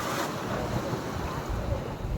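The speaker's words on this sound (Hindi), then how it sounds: "ये है समुद्र की लहर।" Sea waves roll in on the coast at Dhanushkodi with a continuous rushing wash, heavy wind buffeting the microphone throughout.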